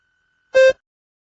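A single short electronic beep from a speaking test prompt, clear and loud, lasting a fraction of a second in otherwise near silence.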